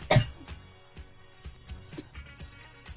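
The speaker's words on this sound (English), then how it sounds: "I need to cough." A woman coughs sharply once at the start, a loud close burst, followed by a few softer throat-clearing sounds and small noises in a quiet studio.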